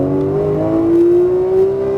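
A Porsche 911 GT3 at full throttle on a racetrack, its engine note climbing steadily in one smooth, loud rising pull heard from inside the car.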